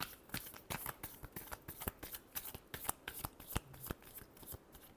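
Tarot cards being shuffled for a reading, a quick run of crisp riffling snaps and flicks, close and fairly quiet.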